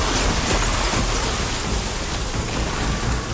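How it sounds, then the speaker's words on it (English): Dense, steady roar of a storm in Horizon Forbidden West, wind and rain-like hiss filling the whole stretch at high level, with low rumbling underneath and no voices. "Oh, the storm's whipped up a sand spiral."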